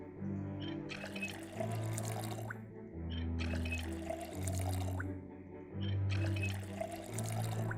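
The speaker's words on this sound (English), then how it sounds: "So we'll fill all those up with water now." In the Project Zomboid video game, water pours into plastic bottles in three repeated rounds, each a steady rushing fill that swells and then cuts off, moderately loud with no talking.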